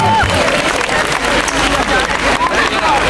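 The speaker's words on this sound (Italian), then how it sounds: "E qua farei un altro bel applauso perché è davvero importante." Loud applause and cheering from a festival audience at Lucca Comics and Games, a dense sustained wash of clapping and crowd noise throughout, with scattered shouts over the top.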